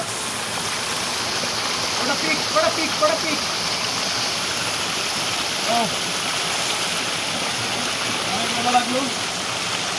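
Steady rushing water of the Sobuj waterfall fills the background, a constant broadband roar, while people talk briefly over it.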